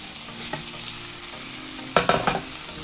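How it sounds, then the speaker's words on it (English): Drained noodles hit a pan of sizzling stir-fried vegetables, giving a steady hiss of frying that jumps into a cluster of louder crackles and stirring clatter near the end, with no voices. "And now finally I'm going in with my noodles"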